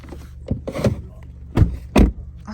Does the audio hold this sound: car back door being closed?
yes